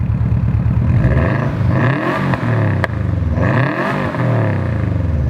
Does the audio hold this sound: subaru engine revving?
yes